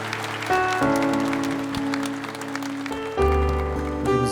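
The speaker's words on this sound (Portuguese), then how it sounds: "Podemos aplaudir a palavra de Deus" A church congregation claps together after a Gospel reading, the applause running steadily under sustained organ or keyboard chords for several seconds.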